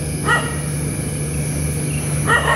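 A dog in an oil palm plantation gives two short barks about two seconds apart, moderately near over a steady hum.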